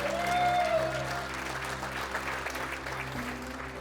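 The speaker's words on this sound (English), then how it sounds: "Round of applause." Wedding guests at a reception applaud together, a steady round of clapping over a low hum from the room, loudest at the start and continuing at an even level.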